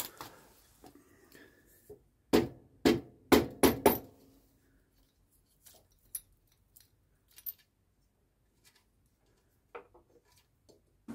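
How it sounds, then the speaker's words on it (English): A hide mallet strikes the cylinder head of a 1939 Excelsior Universal's Villiers 9D engine in a burst of five loud, close, dull knocks, then softer clinks and taps as the head comes loose. "give it a gentle tap with the hide mallet and off she come."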